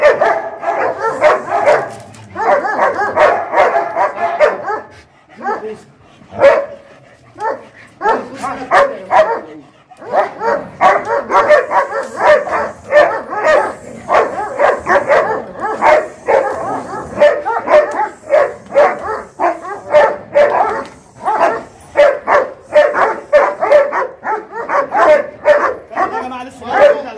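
A dog barks aggressively in repeated harsh bursts with yips and whimpers during a bite test, close and loud, with people talking over it throughout.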